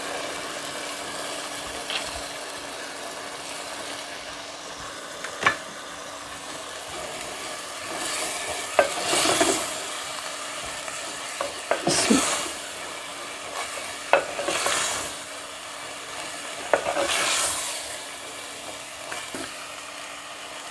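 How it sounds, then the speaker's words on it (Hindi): Radish pods roasting with spices in a pan for a potato and moongre sabzi, a steady low sizzle marked by several louder stirring scrapes spaced a few seconds apart over a faint background hum. "अब इसे शामिल करके 2 से 3 मिनट के लिए मज़ीद इनकी भी भुनाई करेंगे।"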